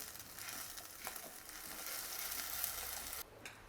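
Tomato puree sizzles and fries in onion gravy over a low flame, a steady close hiss with faint stirring scrapes, easing off near the end.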